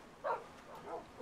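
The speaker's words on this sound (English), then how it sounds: "Stupid dog, stop pushing me, dogs!" Minecraft dogs give a single short, yipping bark, faint and brief, followed by a weaker second whimpering yelp.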